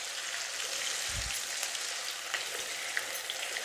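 Marinated undercut beef fries over high heat for a Chinese-style dry chilli, giving a steady, bright crackling sizzle with a brief low thump near the start and faint clicks of stirring.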